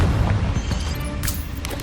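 Confringo blasting spell exploding in Hogwarts Legacy, a deep booming impact followed by a sustained rumbling tail and a couple of sharp crackling bursts near the end.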